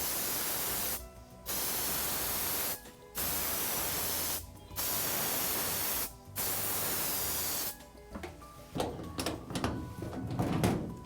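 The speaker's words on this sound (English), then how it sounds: "some of these products have different spray patterns that I'd like to show you. This one is a web pattern." An aerosol can sprays adhesive in a web pattern, a loud, steady hissing in four sustained bursts of about one and a half seconds each, separated by short pauses, followed by rattling and handling noise.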